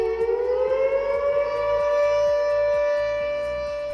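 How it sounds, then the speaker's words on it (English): A factory emergency siren sounding its level 2 pattern wails loud and near, a sustained tone rising and then holding steady over a low rhythmic mechanical thumping, with no voices present. "The emergency siren level 2. It will be heard if the situation only harms around the production area."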